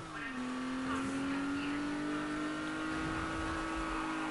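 A racing car in a video game runs with a steady engine whine that climbs slightly as nitrous boost kicks in, continuous and fairly loud, with game racing noise behind it.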